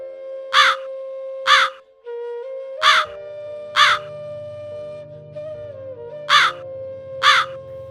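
Cartoon crow cawing six times in loud, evenly spaced harsh calls over a sustained background music tone, with a low rumbling bed entering midway; no talking.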